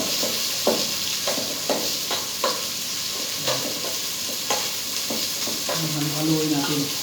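Squid and plenty of onions being stirred in a hot frying pan, steady sizzle with repeated scraping strokes of the spoon, close and continuous.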